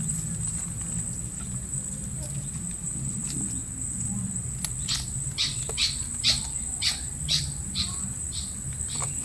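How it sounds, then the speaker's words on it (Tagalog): Birds call among dragon fruit plants in a Philippine garden, a run of short, bright chirps rising over a steady insect drone, with low talk in the background. "Tunog po dito, ibon po, maririnig niyo."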